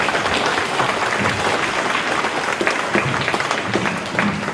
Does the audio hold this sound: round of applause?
yes